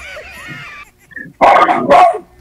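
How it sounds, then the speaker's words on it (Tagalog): A household dog barks loudly, with two sharp, close barks in quick succession after a stretch of quieter whining and background voices at the start. "Malakas ang tahol lang aso namin dito."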